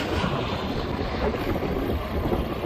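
Strong wind buffets and roars across the microphone of a cyclist riding along a frontage road beside I-40. The dense, constant rumble fills the whole stretch with no voices.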